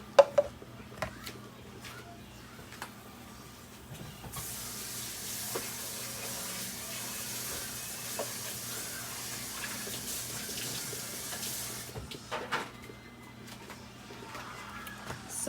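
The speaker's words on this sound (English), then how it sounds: "I think I'm gonna add a little bit more of water" Water poured from a tap into a pot of cooking okra, a steady rushing stream for several seconds amid quiet kitchen clatter and soft sizzling before and after.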